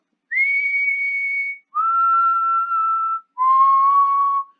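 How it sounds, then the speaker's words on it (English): A person whistles three long, steady pure notes in turn, each one held for about a second and pitched a little lower than the one before, with clear silences between them. "If I whistle,"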